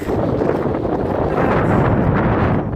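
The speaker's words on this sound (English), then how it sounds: "Oh, that wind is nice on other days, but not quite so nice just now." Strong wind on a steep desert hiking trail buffets the microphone in a continuous loud rumble with no break.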